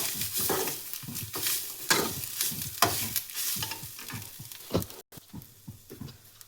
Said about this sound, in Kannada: ಸೊ ಇದನ್ನು ಚೆನ್ನಾಗಿ ಇದರಲ್ಲಿ ಮಿಕ್ಸ್ ಮಾಡಿಕೊಂಡು ಸ್ವಲ್ಪ ಫ್ರೈ ಮಾಡ್ಕೋಬೇಕು.